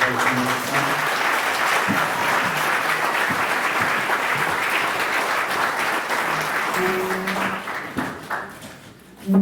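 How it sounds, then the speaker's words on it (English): At a school board candidate forum, the audience gives a sustained round of applause, dense steady clapping with faint tones underneath, tapering off near the end. "Can we get a little round of applause?"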